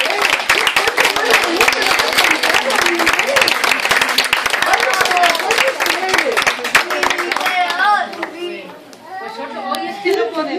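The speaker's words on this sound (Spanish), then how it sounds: "Un aplauso para Miguel." Applause from a children's audience at a school storytelling of The Ugly Duckling, loud continuous clapping mixed with kids' chatter and shouts, tapering off as children keep talking near the end.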